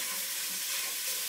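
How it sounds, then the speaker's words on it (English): Beef and sausage sautéing together in a pan give a steady, close broadband sizzle with a brief stirring clatter near the end. "I'm just going to saute the beef and the sausage together"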